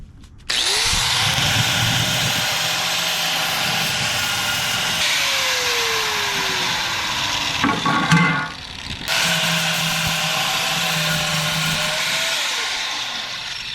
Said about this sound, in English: So cutting next with the grinder.